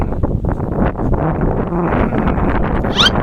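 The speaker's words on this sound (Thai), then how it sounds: "ลมค่อนข้างแรง" Strong coastal wind buffets the microphone in loud, rumbling gusts that hold steady throughout, with a brief higher chirp near the end.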